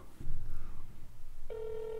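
A telephone call placed during a ServiceNow Computer Telephony Integration test, with a short low tone followed by a clear, steady electronic ring tone near the end.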